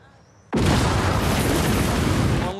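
A bomb detonates in a scene from the TV series Generation Kill, hitting with a sudden, loud boom after a quiet moment and then rolling into a sustained, heavy rumble for the remaining couple of seconds.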